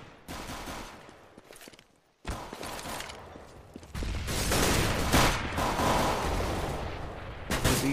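Rapid bursts of gunfire fill a Counter-Strike match, dense volleys crackling loudly in close succession with a brief pause early on, then building into sustained, heavy firing.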